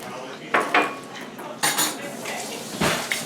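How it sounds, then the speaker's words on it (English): Dishes being washed in a home kitchen during a family holiday gathering, with metal cutlery and pots clanking in several sharp bursts over a steady background hum and no talk. "doing the dishes so they won't pile up"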